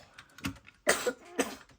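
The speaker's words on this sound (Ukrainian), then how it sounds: "Ти що кашляєш?" A person coughs in three sharp bursts, each one short and separated by a pause, at moderate loudness against a quiet indoor background.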